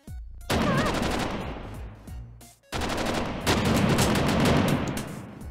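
Dense video-game gunfire from Gun Godz rattles in rapid bursts, loud and close, breaking off briefly near the middle before a second sustained volley resumes.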